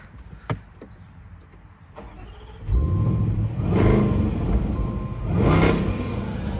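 A few faint clicks, then the 5-litre V8 engine of a 2023 Land Rover Defender V8 Carpathian Edition cranks and catches, settling into a deep, steady idle with two swelling revs, heard up close.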